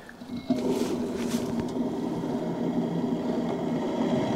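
A trolling motor running at speed 20 on a Pelican Bass Raider boat, a low steady hum and whine close by after a brief quieter start, continuing evenly with no talk.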